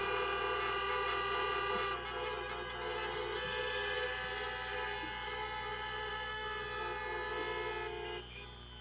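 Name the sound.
car horns honking at a political rally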